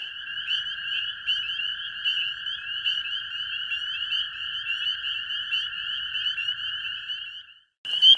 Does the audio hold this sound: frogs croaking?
yes